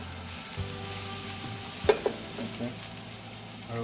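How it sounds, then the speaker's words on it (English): Red chili paste frying in butter and oil for laal maas, a soft steady sizzle with a few stirring scrapes and clinks, close and fairly quiet, no talking. "add this amazing red chili paste. There you go. And start frying it."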